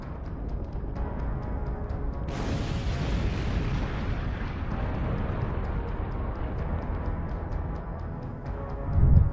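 A HIMARS rocket strike in Ukraine: a heavy explosion erupts into a long, sustained roaring rumble that stays loud for several seconds, with a deep thump near the end.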